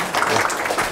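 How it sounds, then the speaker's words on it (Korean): An audience at a disability policy forum applauds briefly, a thick wash of many hands clapping at steady volume, with some voices mixed in. "네, 박수."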